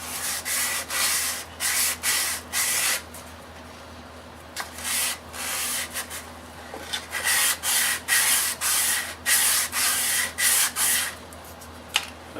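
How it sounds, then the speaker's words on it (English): A wooden clock is sanded by hand around its edges in a run of rhythmic rubbing strokes, short scratchy bursts close to the mic with brief pauses between, over a steady low hum and no voices. "Now I can sand around and get all my edges."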